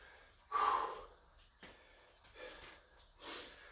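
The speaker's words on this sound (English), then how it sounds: "I'm having labored breathing." Heavy, labored breathing during a calisthenics workout: a few separate gasping breaths and snorts, close and fairly faint, with quiet pauses between them.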